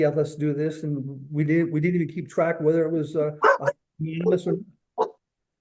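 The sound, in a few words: dogs barking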